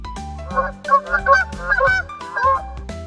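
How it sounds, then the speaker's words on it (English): Goose honking in a children's farm animal names segment, a rapid series of nasal honks in quick bursts over soft music, close and clear with no talking. "Goose."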